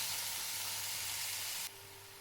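Chopped onion fries in hot oil with mustard seeds and cumin, giving a steady, soft, close sizzle that runs evenly and then drops in level near the end.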